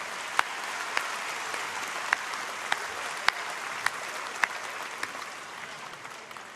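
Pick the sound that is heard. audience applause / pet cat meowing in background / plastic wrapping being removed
audience applause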